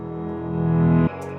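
Reversed piano chords in Logic Pro form a rising swell, growing steadily louder for about a second before cutting off abruptly into a quieter sustained tail.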